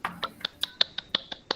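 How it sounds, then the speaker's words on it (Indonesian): Students in a classroom clapping along to a children's action song, about nine sharp, evenly spaced claps in a quick steady rhythm, close and crisp with quiet gaps between. "tepuk tangan lebih keras"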